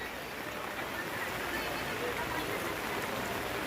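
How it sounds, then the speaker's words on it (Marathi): Steady rain falls at an outdoor Sunday market in May, a constant, even hiss of drops without a break, fairly soft and broad across the whole stretch. "पाऊसच आलाय मे महिन्यामध्ये"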